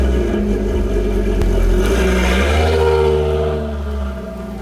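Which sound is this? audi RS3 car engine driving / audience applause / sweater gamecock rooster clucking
audi RS3 car engine driving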